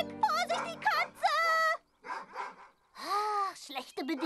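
Quick yappy dog barks in short bursts, alternating with a person's high, exaggerated voice; one long swooping cry sounds like someone imitating a dog.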